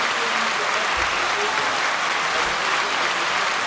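Played-in applause effect during a podcast interview: a thick, continuous wash of crowd clapping at even loudness throughout, with voices faintly underneath.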